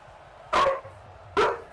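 A dog barks twice indoors in the background, two loud sharp barks about a second apart over a quiet room hum, during a Bills versus Jets football broadcast.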